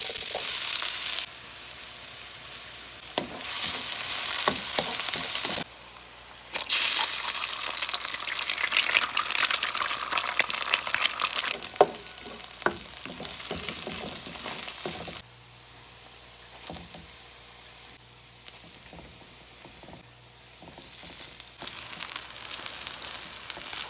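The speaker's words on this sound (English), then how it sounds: "I'll be sauteing the garlic and onions first" Garlic and onions sautéing in hot oil in a pan, a steady close sizzle and crackle with occasional stirring scrapes, rising and falling in intensity over time.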